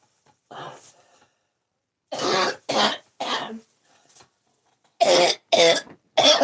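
A run of harsh coughs in separate bursts, a couple of single ones, then a tight cluster of three near the end, close and fairly loud.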